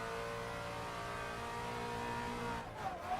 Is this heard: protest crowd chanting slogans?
no